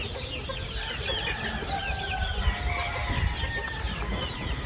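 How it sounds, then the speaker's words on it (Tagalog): Two-way cross pullets cluck and chirp continuously at close range, several birds overlapping over a dense farmyard background. "Yan mga pullets natin, mga two-way cross lang naman yung mga yan."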